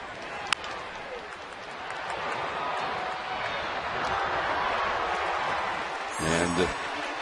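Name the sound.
unhappy baseball stadium crowd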